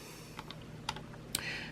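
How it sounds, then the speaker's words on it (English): A few separate keystrokes on the keyboard of an Akai S3200 hardware sampler, typing a short sample name: sparse, irregular clicks with gaps between them, close and fairly quiet over a steady low hum. "I would then use the keyboard to type BREAK"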